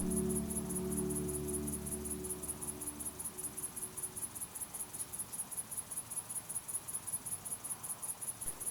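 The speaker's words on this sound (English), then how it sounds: "The only sound was the crickets as they sang under the full moon." Steady, rhythmic cricket chirping repeats throughout on the Isle of Wight at night, a dense high trill pulsing evenly; a low hum fades out in the first few seconds.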